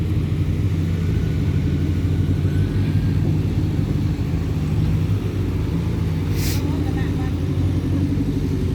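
Two company cars racing off-road one behind the other, a loud continuous engine rumble close by with revving, and a person talking over it.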